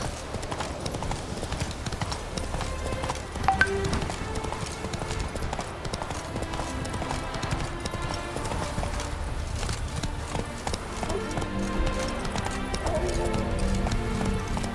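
Horse hooves clip-clopping at a gallop in The Witcher 3 video game, a continuous rhythmic drumming of hoofbeats up close with a faint whinny and a voice briefly speaking.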